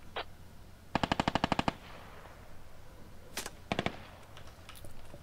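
Automatic gunfire pounding a bunker emplacement in a military squad game, a rapid burst of about eight shots followed by scattered shorter bursts and single cracks, loud and close.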